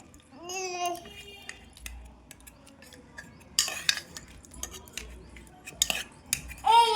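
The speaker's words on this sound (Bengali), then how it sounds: "এবার এটাকে ম্যাশ করে খাওয়ানো হবে।" Cooked khichuri being mashed with a spoon in a bowl, with scattered scraping and clinking of metal against the dish amid soft squelches, broken by brief child-like babbling sounds.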